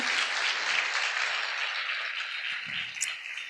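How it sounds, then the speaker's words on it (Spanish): A church congregation applauds during a retreat, steady dense clapping from a room full of people, fairly even throughout with a faint voice or shout near the end. "La pastora Susi, quiero que le demos un fuerte aplauso"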